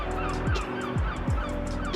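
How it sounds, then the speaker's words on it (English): Birds calling in a quiet residential street in Holland Park, London, with repeated honking, goose-like calls recurring every half second or so over a steady background hum. "The sounds of birds."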